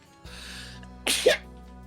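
A single sharp sneeze bursts out close by, brief and loud, after a stretch of quiet room tone.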